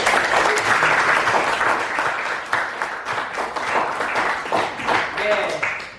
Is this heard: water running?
no